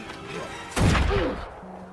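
A single gunshot in a film scene cracks out sharply mid-clip, a loud burst over a dim background with a brief tail.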